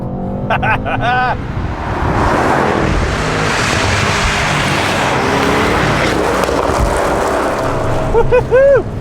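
A Mercedes-AMG GT 63 S with a twin-turbocharged 4-litre V8 accelerating hard in Sport Plus mode, a loud, sustained engine roar building from inside the car, with brief chimes or beeps at the start and end.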